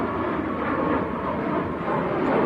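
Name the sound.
Ryanair airliner departing Manchester Airport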